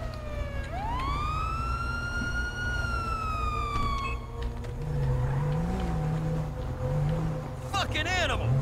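Police car siren in GTA V with the LSPDFR mod, a loud rising wail sweeping up and holding, then a quieter wavering siren tone over a low engine rumble, with a voice speaking near the end.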